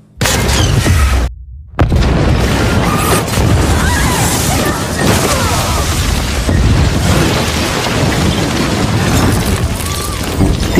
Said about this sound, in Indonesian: Parker meledakkan tempat itu.